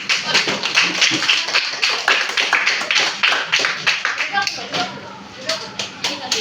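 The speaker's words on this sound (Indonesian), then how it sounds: "Boleh kamu beri tepukan semangat bersama-sama. 1, 2, tepukan." A classroom of students claps together in a rhythmic pattern of sharp, close, evenly spaced bursts that briefly thin out and then resume, with voices mixed in.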